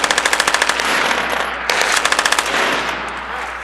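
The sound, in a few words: machine gun fire at a shooting range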